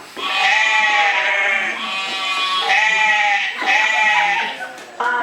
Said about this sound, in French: Ah non, ce ne sont que des moutons.